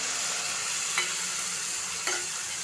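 Whisked sour yogurt sizzles in a pan of frying pomfret fish curry, a steady hiss punctuated by two brief scraping stir strokes, with no voices.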